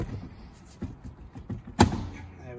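A Renault Clio 172/182 steering wheel is rocked top to bottom until it shifts on its splines, giving soft, close knocks and creaks and then one sharp clunk as it breaks free.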